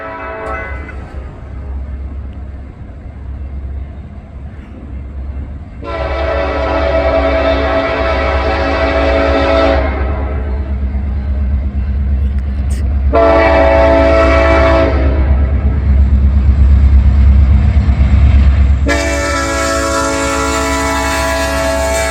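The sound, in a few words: Norfolk Southern heritage locomotive 1065 leading manifest freight train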